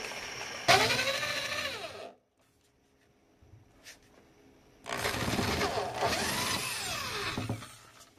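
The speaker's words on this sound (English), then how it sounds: "now we're going to go to the outside of the door with the 3/8 drill" A power drill with a 3/8-inch bit whirs loudly in two long bursts, boring through a door, its pitch rising and falling as it bores, with a quiet pause between them.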